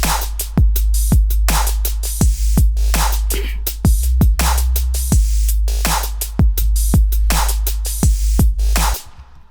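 A trap drop built in Logic Pro X: a single snare automated to pan between left and right, hitting over deep, pitch-sliding bass booms in a steady, loud rhythm that cuts off abruptly at the end.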